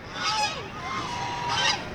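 Ducks eating biscuits at Landhi Korangi Zoo honk and call close by in a short stretch of quacking, nasal cries, with no talking.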